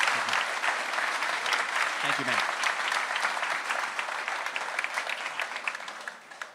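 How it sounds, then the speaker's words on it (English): Audience applause fills a town hall meeting, a steady clapping crowd throughout with a man's brief spoken thanks over it. "Give this man a round of applause."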